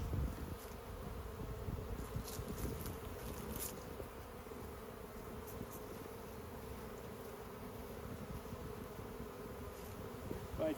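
Honey bees shaken from a hive frame, a dense continuous buzzing swarm with individual bees droning close by at intervals, fairly quiet overall and with no talking.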